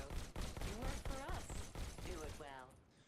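Rapid bursts of gunfire on a target range in the Robo Recall VR video game, a string of sharp repeated shots under someone talking almost throughout.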